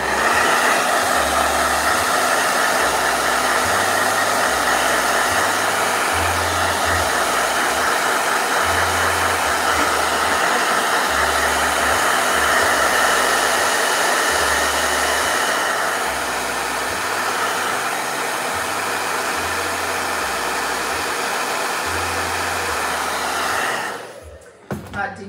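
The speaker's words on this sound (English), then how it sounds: "Blow dryer." A blow dryer runs steadily and close for about 24 seconds as one continuous whirring hum, then cuts off near the end.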